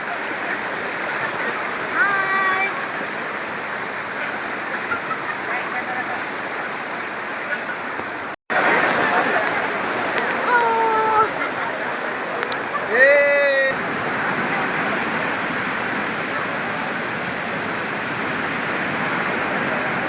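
Monsoon waterfall at Bhagirathi falls near Vangani, outside Mumbai, giving a steady broadband rush of falling water close by, with voices talking over it and a brief dropout midway.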